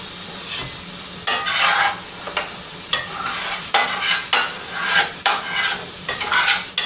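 Beef filling for flautas simmers and sizzles in a pan, with repeated bursts of loud crackling as it is stirred, rising and falling in waves; no talking.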